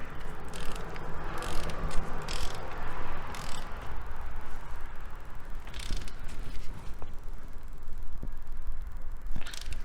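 A ratchet wrench snugs a new oil filter into place during vehicle fleet maintenance, giving short bursts of close mechanical clicking over steady broadband workshop noise, with no talking.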